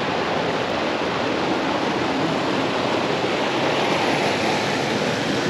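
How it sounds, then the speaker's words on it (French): Loud, continuous rushing of a river in the Cévennes, dense and unbroken throughout, with no voices. "on ne doit pas m'entendre à cause de la rivière"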